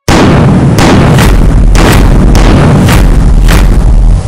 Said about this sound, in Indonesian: 6 April 1453, meriam pertama ditembakkan.